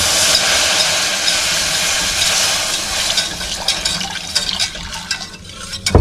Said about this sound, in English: I'm going to slowly add 2 cups of our reserved broth